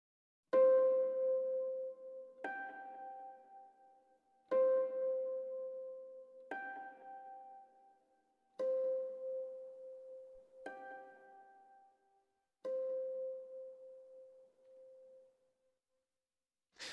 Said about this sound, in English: So it will have a harmonic sound that sounds an octave higher than the octave of that actual